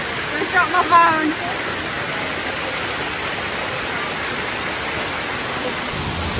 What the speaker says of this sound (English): And what's here? Waterfall.